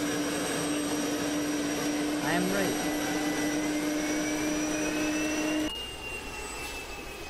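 Loud, steady whine of a modded helicopter engine in the video game Arma 2, with a strong droning tone throughout that drops in level near the end; someone speaks briefly over it.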